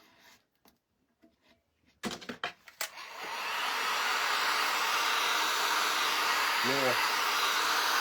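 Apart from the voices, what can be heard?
heat gun blowing hot air to heat a tray print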